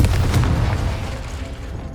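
The Confringo blasting spell exploding in the Hogwarts Legacy video game, a single heavy booming blast with a low rumble that fades out over the next second or so.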